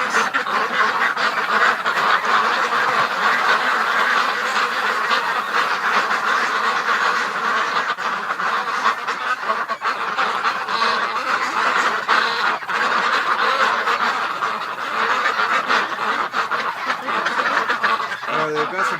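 Flock of ducks in a barn in winter, quacking and honking continuously in a dense, overlapping chorus that fills the space throughout.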